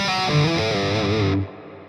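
An electric guitar played through a Hotone Ampero II with arena reverb and heavy distortion gives a sustained, wobbling, chorus-like chord that rings for about a second and a half before cutting off, leaving a faint tail.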